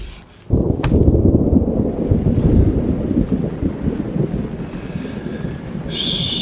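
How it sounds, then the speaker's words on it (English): A storm wind sound effect roars in suddenly after a quiet start and blows steadily, loud and close with a rushing, surf-like texture, at a staged Maserati Grecale global premiere show. "A storm is coming!"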